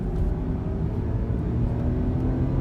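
A 2007 BMW X3 accelerates on a test drive with a low, steady engine rumble and road noise heard from inside the cabin, continuous and fairly loud with no talking.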